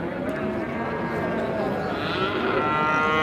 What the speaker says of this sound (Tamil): எல்லாம் நாட்டு மாடு தான் வச்சுருக்காங்க பாருங்கள்